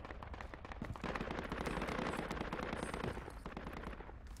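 Enemy gunfire in Project Reality, a sustained rattle of machine-gun bursts and scattered shots at moderate distance, steady throughout with no pause.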